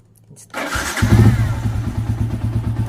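A Rusi Sniper 150 motorcycle engine starts after a brief quiet moment and settles into a steady, close idle with a rapid low chugging rhythm, after repair of a cylinder head noise.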